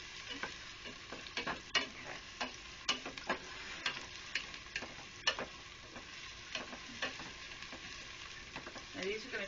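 Garlic cloves frying in hot oil for chili, a steady soft sizzle crackling throughout with frequent small ticks and pops as they are stirred around the pan, fairly quiet and close.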